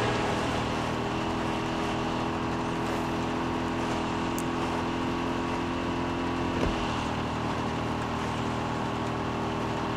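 A car engine drones steadily in the video game Far Cry 6, a continuous loud hum with fixed tones, briefly broken by a faint chirp and a short knock.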